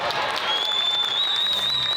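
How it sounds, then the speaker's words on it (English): Audience applause at a junior bodybuilding competition, a steady wash of clapping from a crowd with a whistling tone running through it and an announcer's voice over the top. "a huge round of applause for each and every one of these 6 incredible junior athletes"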